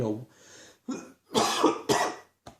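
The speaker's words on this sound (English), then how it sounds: "if you've been noticing I've been coughing a lot" A few harsh coughs and throat-clearing bursts come close to the mic, separated by short pauses.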